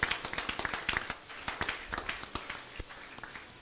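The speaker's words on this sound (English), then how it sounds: "Give a clap of to Jesus" Congregation in a church anniversary service clapping in brisk, uneven bursts of many hands, fairly close and steady for several seconds, with no talk over it.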